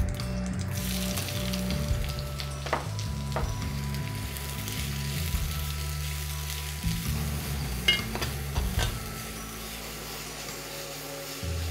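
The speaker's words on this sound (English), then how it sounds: "Once the oil is hot, add some curry leaves. And into this goes some chopped small onions." Chopped small onions and curry leaves frying in hot coconut oil for Kerala-style fish, a soft continuous sizzle with a low rumbling hum and a few scattered clicks, no voices.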